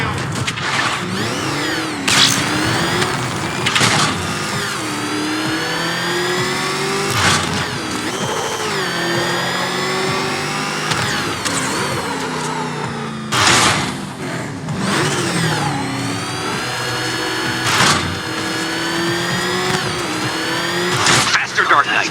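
A Batmobile in the Batman Arkham Knight video game revs and surges with rising engine swells, running under nearly continuous male dialogue and game effects.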